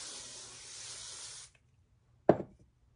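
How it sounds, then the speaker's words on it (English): A short steady hiss of hairspray misted onto fine styled hair, lasting about a second and a half, then silence and a single sharp knock or clatter. "Then I spray it just a little."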